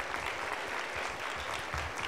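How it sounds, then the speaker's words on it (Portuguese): Audience applause at a sales lecture in Ouro Minas, steady dense clapping from a crowd, fairly distant and even for a couple of seconds. "Palmas para ele aí, gente."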